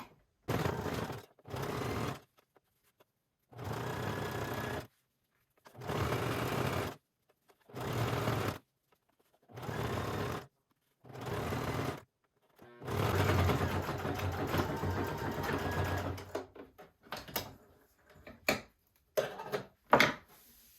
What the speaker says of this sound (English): I'm going to sew my seam as close to this line as I can.